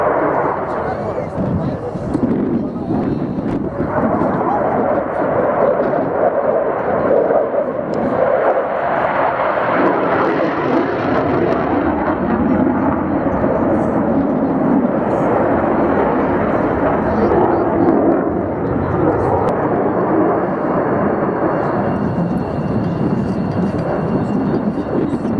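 A Saab-built jet aircraft powered by a Volvo engine at an airshow, its loud, continuous broadband roar sustained throughout as the jet passes, with a voice commentating over it.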